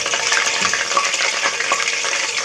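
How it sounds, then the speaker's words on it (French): Pieces of chicken fry in hot oil, giving a steady, dense sizzle and crackle, close and even throughout, with no talking. "On balade dans l'huile bien chaude."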